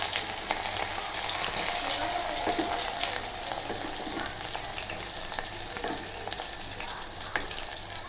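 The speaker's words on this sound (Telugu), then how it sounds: "అయితే బాగా వేయించుకున్నాము" Tomato, onion, green chili and cloves frying for chicken curry, a dense, continuous sizzle with crackling spits and occasional stirring scrapes, close and steady throughout with no talk.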